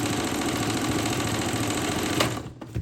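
Singer sewing machine running a longer stitch length, a fast steady close whirring chatter of needle strokes that stops abruptly near the end, with no talking.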